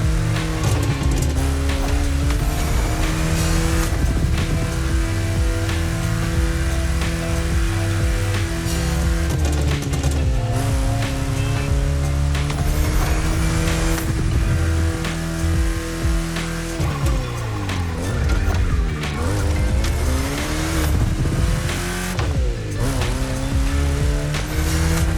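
A car cruises in The Crew Motorfest at a beach setting, its engine droning steadily and loud throughout with shifting revs, occasional tire squeal and background music, no talk.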